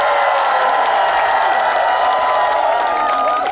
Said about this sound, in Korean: 오늘 주최층 여러분들께 다시 한번 뜨거운 박수를 부탁드리겠습니다